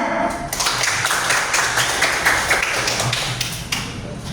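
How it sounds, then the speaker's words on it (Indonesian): Classroom applause for a student, a burst of quick overlapping claps from a group, close and steady for a few seconds. "Ya, berikan aplaus untuk temannya."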